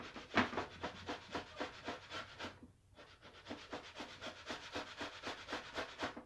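Potatoes scraped against a grater for hashbrowns make quiet, regular rasping strokes, about three per second, with one brief pause midway.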